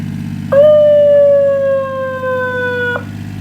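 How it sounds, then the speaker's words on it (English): A mini fire truck lets out a short siren wail of about two and a half seconds: a clear, loud electronic tone that starts abruptly, sags slightly in pitch, then cuts off. A low engine hum runs underneath throughout. "Be sure to give us a siren when you're down the hill."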